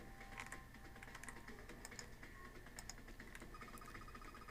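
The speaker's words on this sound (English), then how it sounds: "Typing on this keyboard isn't doing squat." Keys clatter on a computer keyboard in the video game 999, a steady run of quick close taps over a constant hum, with no talking.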